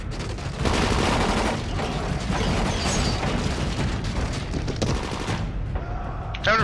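Sustained, dense gunfire from guns in the zombie video game Dying Light roars almost continuously for several seconds, loud and close, with overlapping rapid shots and booms.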